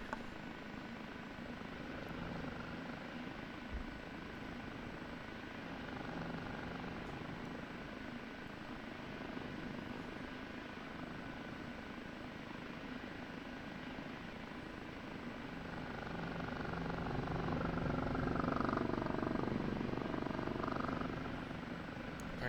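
An OH-58D Kiowa Warrior helicopter in the DCS flight simulator drones steadily from inside as it takes off, a low rotor and turbine hum that swells somewhat louder near the end.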